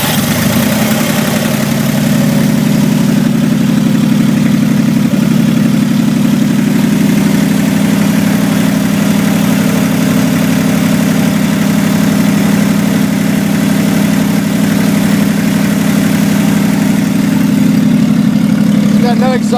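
A 1965 Corvair Monza parts car's 95HP engine idles with no exhaust fitted, a loud, steady, throbbing drone close by that runs unbroken for the whole stretch, with occasional voices underneath.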